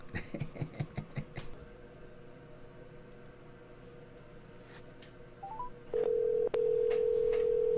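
A telephone call is dialed: a quick run of short keypad tones plays first, then a pause. A steady ringing tone follows, up close and clear, with no speech.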